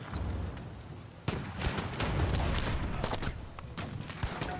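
Dense battle gunfire from Civilization 7, a steady wash of overlapping shots with sharper bursts that could be grenade blasts, loud and continuous with no clear speech.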